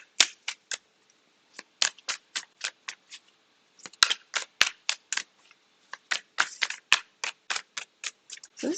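Tarot cards are shuffled in quick bursts of crisp riffling snaps, close and clear, with short pauses between runs and no talking.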